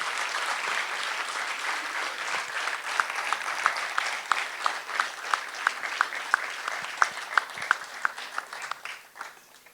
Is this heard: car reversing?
no